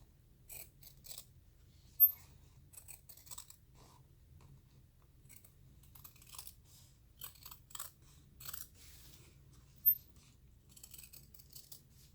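Scissors snip through sewn fabric around a seam on a crossbody bag, giving scattered short crisp cuts in uneven bursts, very quiet overall, with a couple of sharper clicks standing out against a low background hum.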